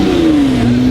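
A warmed-up twin-turbo Audi R8 engine idling close by, a loud steady rumble whose pitch sags slightly over a single second.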